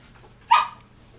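A single short dog bark rings out at a moderate distance indoors, one sharp burst over quiet room tone with no other barking around it.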